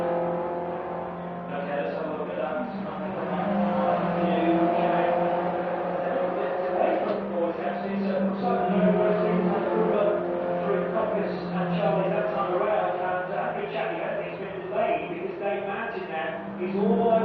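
Race cars run flat out at Cadwell Park circuit, a steady engine roar with rising and falling revs under constant race commentary.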